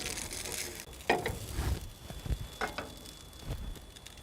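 Hash browns frying on a single-burner biogas stove, a soft steady sizzle with occasional stirring scrapes and clatters, close and moderately quiet.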